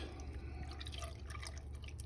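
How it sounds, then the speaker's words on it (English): Milk pours into a pot with cream cheese and butter for mac and cheese, a steady, soft liquid trickle with faint dripping over a low background hum. "Then I'm gonna pour in a cup of milk."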